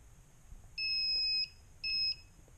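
Two clear electronic beeps from a circuit breaker finder, the first longer than the second, sound over a quiet background hum.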